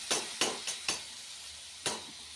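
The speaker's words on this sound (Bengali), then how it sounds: "এখানে পেঁয়াজ দিয়ে ভেজে নিয়েছি আলুটা আর এর মধ্যে এখন দিয়ে দেব সর্ষে পোস্ত আর কাঁচা লঙ্কাটা বাটা" Potatoes and onions fry in a pan after a paste of mustard, poppy seed and green chili goes in. A spatula scrapes and stirs several times in quick strokes over a low sizzle.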